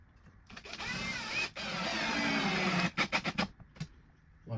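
A power driver sinks screws into timber, one long whirring run followed by several short quick bursts, close and fairly loud with no talk over it.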